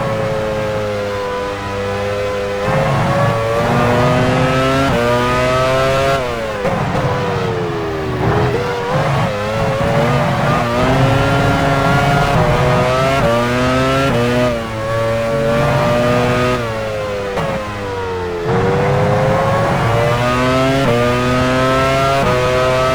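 An F1 car engine in F1 Challenge 99-02, a McLaren at the 2000 Hungarian Grand Prix at the Hungaroring entering the pit lane, whines loudly and steadily, its harmonic pitch sliding down and up as it shifts, with no talk.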